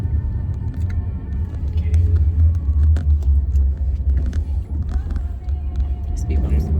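Car driving along a road, a steady low rumble of engine and tires heard from inside the cabin, with faint rattles and people talking.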